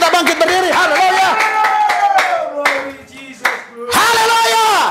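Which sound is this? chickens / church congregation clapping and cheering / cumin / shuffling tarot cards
church congregation clapping and cheering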